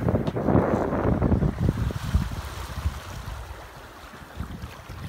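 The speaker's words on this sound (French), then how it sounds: "Voilà un peu à quoi ressemble la mer." Wind buffets the microphone aboard a sailboat crossing the English Channel, with rough, short choppy waves slapping and rushing around the hull, loud gusts at first easing to a lower churning wash.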